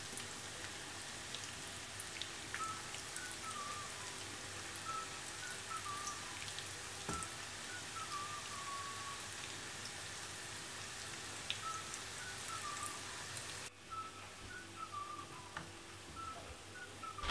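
Masala kachori frying in hot oil, giving a steady, dense crackling sizzle that runs without a break and turns slightly quieter and thinner near the end; no one talks.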